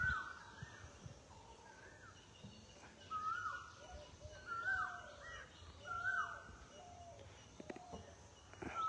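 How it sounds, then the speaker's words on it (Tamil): In a groundnut farm field, an Asian koel calls repeatedly from a distance, its faint, rising notes recurring every second or so over a quiet outdoor background. "இந்த குயில் கூட சவுண்ட் இதெல்லாம் ஒரு ஃபீல் தான்"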